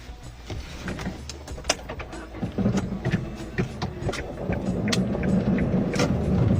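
A car drives off, its low engine rumble building steadily toward the end, with scattered sharp clicks and rattles near the vehicle and no clear talk.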